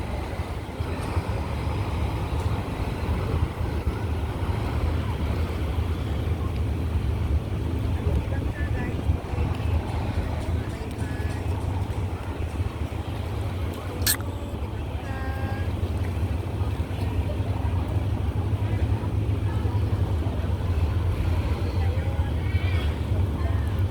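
A boat moves across the water near a marina pier, a continuous low engine rumble under wind buffeting and splashing, steady throughout with a brief sharp click midway.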